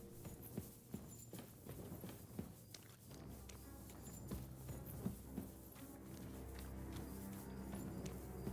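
Horse hooves clip-clop in a video game, starting as separate steps and then settling into a steady, even rhythm that runs on under a continuous low rumble.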